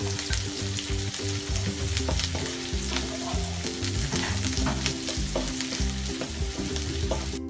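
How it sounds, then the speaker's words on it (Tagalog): Onions fry in hot oil with a dense, constant sizzle, near and loud, and steady stirring runs beneath it, with no voices. "So ilalagay na natin ang ating onions. So i-fry po muna natin siya."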